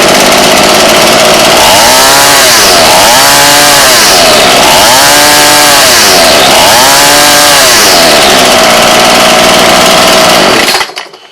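Ryobi weed eater small two-stroke engine, older and worn, running loud and close with a raspy buzz that rises and falls in several revving surges, then cuts off abruptly at the end.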